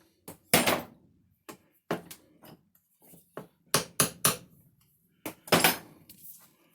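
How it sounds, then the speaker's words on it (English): Several sharp metallic taps from a small hammer tapping a bit into a stick ring out in irregular bursts, some in quick succession, close and fairly loud with quiet gaps between. "just take our little hammer, tap it in"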